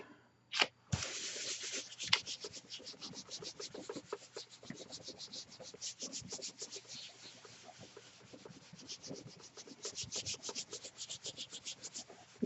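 Paper is rubbed by hand over a gel plate to lift a painted print, a continuous close dry scrubbing in quick rhythmic strokes, with a few sharper knocks near the start.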